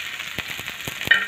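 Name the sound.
green chillies and garlic frying in a pan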